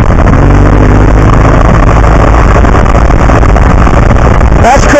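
A 2015 BMW R1200 GS Adventure motorcycle ridden on a dirt road, its engine hum almost buried under loud, constant wind buffeting on the microphone, with a brief chirp near the end.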